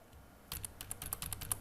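Computer keyboard keys are pressed in a quick run of close, crisp clicks for Ctrl shortcuts during Blender work, starting after a brief quiet pause.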